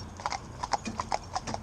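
Hooves of Lipizzaner horses clip-clop in an unhurried, even walking rhythm, about a dozen crisp, moderately close hoofbeats with no talking over them.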